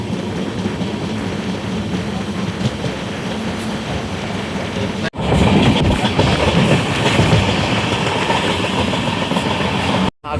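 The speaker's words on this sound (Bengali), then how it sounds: "খুব ভালো স্পিডে কিন্তু ট্রেন টানছে।" Kamrup Express running at speed near Old Malda Junction gives a steady loud rumble and clatter of wheels, heard from inside the coach, with two brief sharp dropouts as it passes something.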